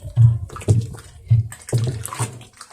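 Hot water is stirred into organic fertilizer in a container, making four or five rhythmic, close, moderately loud sloshing strokes with short pauses between them.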